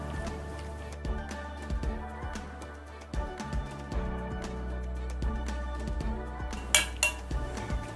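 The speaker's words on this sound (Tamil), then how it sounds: "எல்லாத்தையும் சேர்த்து நல்லா கலந்துடலாம்" Chicken biryani marinade with cooking oil and chopped coriander is stirred in a bowl, a spoon clinking and scraping against the dish in irregular taps under a steady background hum.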